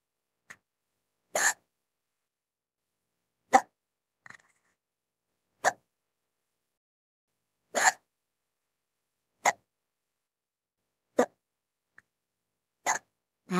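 A person hiccups repeatedly at a computer, sharp short jolts spaced every couple of seconds in near silence, about nine distinct hiccups, close and clear.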